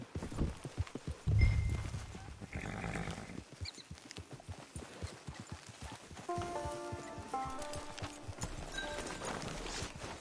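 Video game horse hooves clip-clop at a steady walking pace near a camp, close and clear, as soft melodic tones rise in the background partway through.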